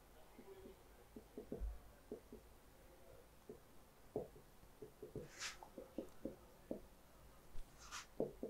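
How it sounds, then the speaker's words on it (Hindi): Quiet, close writing strokes on a classroom board during a maths lesson, heard as scattered short taps and scratches in an irregular rhythm, with a couple of brief higher squeaks and no speech over them. "ठीक है अब इधर लिखते हैं चीज को इसको ऐसे लिख देते हैं"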